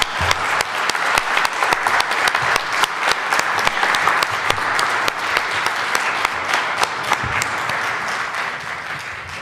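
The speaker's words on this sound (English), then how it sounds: "We applaud you." An audience in a church hall applauds a panel at a Sunday afternoon gathering: dense, steady clapping from many hands, sustained and fairly close throughout.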